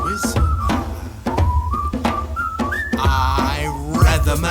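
Melodic whistling carries a song's tune, bright sustained notes gliding between pitches over a steady band backing, loud and up front throughout.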